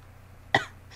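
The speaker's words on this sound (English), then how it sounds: "I've got a cough today." A single sharp, close cough with a short throaty tail, over a faint low hum.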